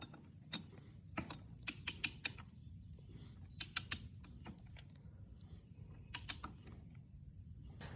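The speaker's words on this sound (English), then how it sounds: "we're going to get this torqued down to 27" A half-inch drive torque wrench with a short extension tightens the flywheel weight bolt on a Yamaha YZ65 dirt bike, giving a series of sharp metallic ratchet clicks in irregular bursts over a quiet background.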